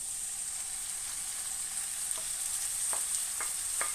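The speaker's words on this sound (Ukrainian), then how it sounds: "Беремо печінку і викладаємо все сюди." Calf liver with onion sizzles in a hot pan, a steady bright hiss with faint crackles and a few soft spatters, close and even throughout, with no talking.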